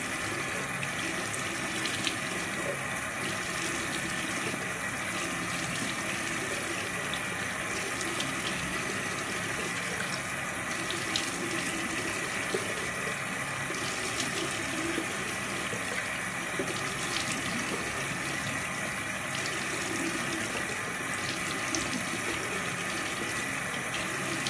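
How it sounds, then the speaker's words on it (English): A bathroom sink tap runs continuously while someone rinses their face, giving a steady, even rush and splash of water that stays constant throughout, with no speech. "I just need to rinse it off."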